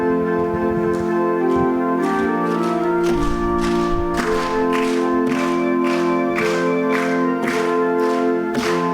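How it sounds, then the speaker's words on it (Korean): A church congregation at a Sunday worship service claps in a steady rhythmic beat while singing along with sustained instrumental accompaniment, the claps recurring evenly and loudly across the passage. "한번 힘차게 한번 박수 치면서 불러봅시다."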